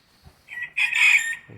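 A rooster crows once nearby, a bright drawn-out call rising then holding, with a faint rustle before it.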